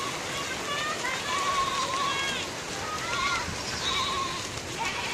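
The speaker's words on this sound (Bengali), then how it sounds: "বৃষ্টি ফোঁটা পড়তেছে, বড় বড় ফোঁটা।" Heavy village rain falling in big drops during a storm, a steady hiss of rain on surfaces heard from indoors near a window, with a person talking over it.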